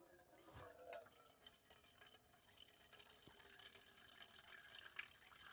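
Water poured through a cloth filter on a tripod splashes and trickles steadily, close by, a continuous wet pouring with small drips scattered through it; no voices.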